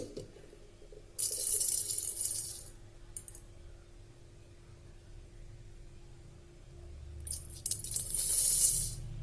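Ponni rice rinsed in water in a kitchen sink, with running tap water in two bursts and quieter swishing and sloshing between them, heard close with no talking.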